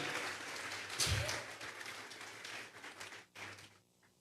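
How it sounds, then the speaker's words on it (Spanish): A church congregation claps during a Spanish-language Bible study service, a moderate, somewhat distant wash of applause with a sharp tap near the start, fading toward the end. "Vamos a regalarle ofrenda de palmas al Dios de la gloria."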